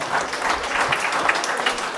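A small group of people claps together in a brief, steady round of applause, fairly close and heard on its own.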